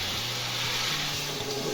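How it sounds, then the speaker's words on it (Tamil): Colored water poured into a pan of cooking rava for kesari gives a steady, close hissing rush of liquid for about two seconds, with no talking. "இப்போ இந்த தண்ணியை சேர்த்துக்கலாம்"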